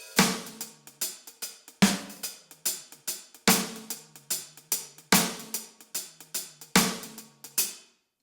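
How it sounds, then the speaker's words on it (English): Drum kit playing a basic halftime shuffle groove, the sketch outline of the pattern: strong crashing backbeat hits recur every couple of seconds over a steady swung ride of lighter strokes, loud and close with no voices. "like the sketch outline of a halftime shuffle should sound like this"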